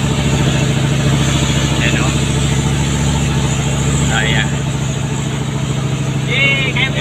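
Heavy truck engine labouring up a steep mountain road, a continuous loud low drone with steady rumble throughout, someone talking over it.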